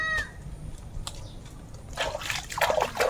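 A freshly caught large eel is washed in water, with faint drips at first, then closer splashing and sloshing in the second half of the clip, with no speech.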